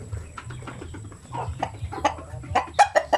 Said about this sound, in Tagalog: Sampin native chicken